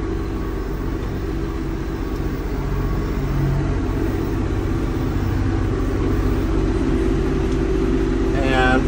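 A tractor engine rumbles steadily while driving, with a low droning tone that swells slightly in loudness partway through as the machine moves.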